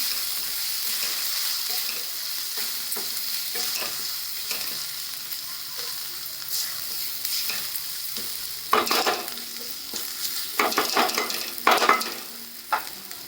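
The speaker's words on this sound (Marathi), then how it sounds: "आणि काळा मसाला अर्धा चमचा चांगले परतून घ्यायचं आहे" Homemade yellow masala and black masala spice are sautéed in a pan, with a faint continuous sizzle and sharper bursts of stirring and scraping toward the end.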